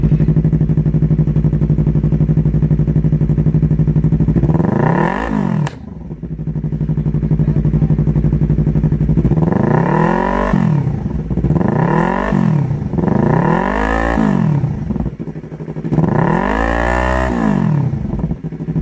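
A Yamaha R3 motorcycle fitted with an aftermarket eBay exhaust from Master Cycle Shop idles loudly at close range, then is blipped through about five sharp rev bursts that fall back to a throaty idle in between.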